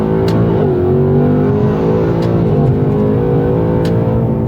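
A Ford Mustang with the Coyote V8 pulls hard through second gear, its engine note rising steadily and loudly from inside the car for several seconds, with no talking.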